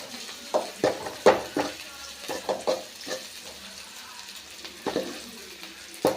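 Sliced onions for a tomato kurma meant for idli sizzle in hot oil, with repeated scraping and stirring clatters in the pan over a soft background hiss.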